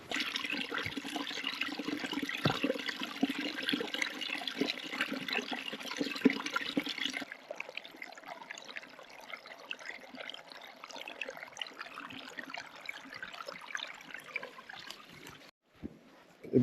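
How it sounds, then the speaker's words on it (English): A fast-flowing winter stream in the woods rushes and splashes steadily nearby, louder at first and then a softer trickling gurgle as the position shifts. "You can see water's actually flowing really fast."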